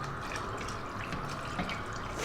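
Cold water pours into a pot in a steady, gentle stream, splashing continuously and close by, with no voices.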